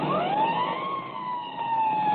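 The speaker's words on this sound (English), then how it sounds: "I'll give the siren all the way." Police vehicle siren wails in one long rising and falling sweep, steady and fairly loud over a muffled engine hum, with no voices.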